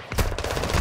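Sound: machine gun fire in Modern Warfare 2 video game

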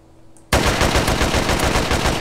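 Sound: gunfire in a video game

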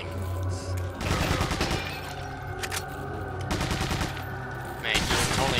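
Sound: gunfire in Resident Evil 4 video game

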